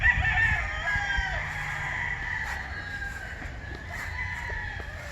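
Roosters crow and chickens cluck on a farm, with long calls ringing out near and clear over a steady background murmur of fowl.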